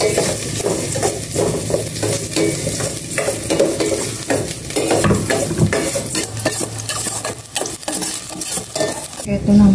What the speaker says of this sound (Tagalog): Gisa ko na itong luya muna.